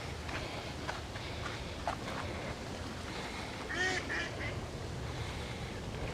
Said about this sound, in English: Say hello to the ducks who are making some noise.